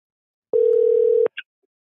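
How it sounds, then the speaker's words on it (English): A single steady electronic phone tone holds for under a second, clear and close against silence, followed by a tiny short blip. "Your phone is ringing."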